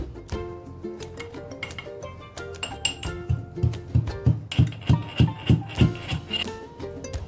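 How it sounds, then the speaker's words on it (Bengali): Garlic cloves being lightly crushed for a gondho paata paste, a run of about ten evenly spaced, close thudding pounds in the second half, preceded by softer clinks and scraping. "এবার আমি রসুনগুলোকে হালকা থেতো করে নেব।"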